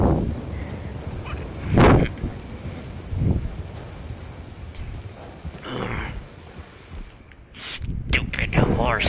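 A horse in a comic setting, with a couple of loud whinnies and snorts over gusty outdoor wind noise, plus scattered rustling between calls.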